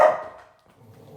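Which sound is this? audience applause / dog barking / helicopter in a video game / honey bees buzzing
dog barking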